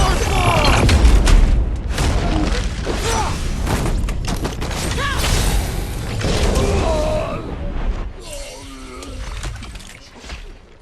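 A star bomb detonates in the Guardians of the Galaxy game aboard a ghost ship, a loud sustained booming blast with crashing debris and rumble, voices talking over the action and quieter clanking toward the end.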